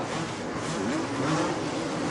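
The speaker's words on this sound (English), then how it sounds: "Ward keeps the engine running." A 250cc supercross motorcycle at a 1988 Tampa stadium race, its engine held running and buzzing steadily and loudly throughout, blended with a broad roar of other bikes and the arena.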